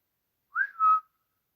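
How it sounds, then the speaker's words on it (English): Someone outdoors whistles once: a short, clear two-note call, rising and then falling, alone against silence. "What if I whistle?"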